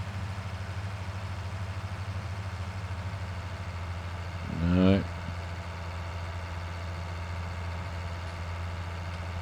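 A two-wheel drive tractor stuck on a wet field in Farming Simulator 19, its engine giving a steady, low, droning hum throughout, with one brief spoken word breaking in midway.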